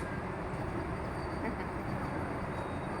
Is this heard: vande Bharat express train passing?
yes